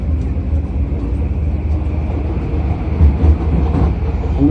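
A commuter train in Surrey, British Columbia, rumbles along steadily close by, a low rolling drone with wheel-on-rail clatter that swells slightly toward the end.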